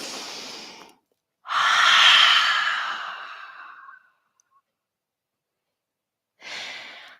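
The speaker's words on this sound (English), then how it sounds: "sometimes it's good to take a big breath" A person takes slow, deep breaths during a gentle yoga session: a short breath in, a long audible exhale lasting several seconds, then silence before another breath begins. The breathing is close and clear, with no talk.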